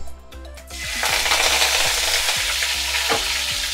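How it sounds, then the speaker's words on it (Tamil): Curry leaves hit hot oil for a vada curry, and a loud, close burst of sizzling and spattering erupts after a quiet start, then carries on steadily with faint regular ticking. "அதுக்கு முன்னால் கருவேப்பிலை கொஞ்சம் போட்டுக்கலாம்"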